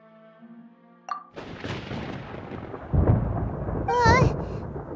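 Thunderstorm in the Genshin Impact video game: a sharp crack followed by a long, loud rumbling roll that swells again near the end, with brief game sounds before and a bright tone over the rumble.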